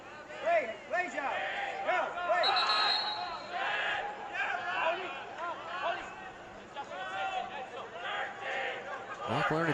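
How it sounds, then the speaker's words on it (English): A stadium crowd at a Red Bull New York II versus New York City FC II soccer match chants a rhythmic count, the voices rising and falling together in repeated bursts with chatter between them. "You hear the crowd continuing to count."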